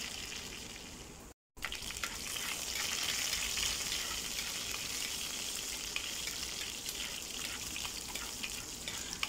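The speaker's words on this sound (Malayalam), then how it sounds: "എണ്ണ നന്നായിട്ട് തിളച്ചു വരുമ്പോഴേക്കും നമുക്ക് അതിലേക്ക് കുറച്ച് പെരുംജീരകം ഇട്ട് കൊടുക്കാം" Fennel seeds and curry leaves fry in hot oil in a pan with a steady, loud, continuous sizzle close by, broken once by a brief silent gap.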